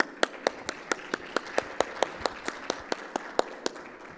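A small audience claps at an education technology event in Mexico, about sixteen distinct, evenly spaced claps over a faint room hum, sounding like a handful of people rather than a full crowd.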